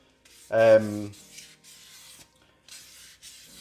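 Yamaha XS650 engine parts are polished by hand during a bottom-end rebuild. Soft, close rubbing strokes come in short bursts, with a brief voiced sound near the start.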